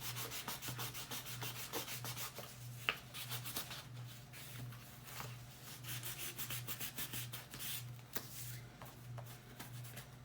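A surface is rubbed with sandpaper before painting, giving a quiet, rhythmic back-and-forth scratching in steady strokes over a faint constant low hum.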